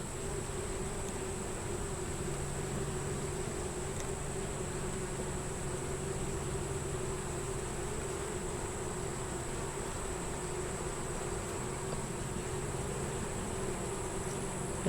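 Dense, steady buzzing of many honeybees at an open hive, a continuous close hum with a high whine layered over it, unbroken for the whole stretch with no talking.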